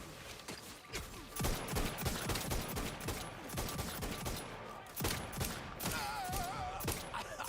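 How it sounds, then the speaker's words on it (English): Rapid bursts of gunfire from the video game The Outer Worlds 2, a dense fusillade of repeated shots that runs almost unbroken and stays loud throughout, with no voices over it. "I put like 8 bullets right in him"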